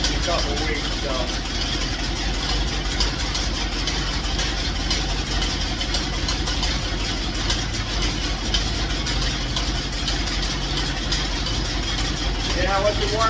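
A cold engine idles steadily with the choke open, just after starting, having sat unused for a couple of weeks. The rumble is continuous, even and close, with no break across the stretch.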